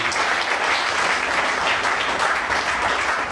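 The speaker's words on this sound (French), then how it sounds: "notre camarade Diaoufoué, que je vous demande d'applaudir parce que" An audience at a political meeting claps steadily, a close, even wash of applause that holds at the same level for the whole stretch without talk.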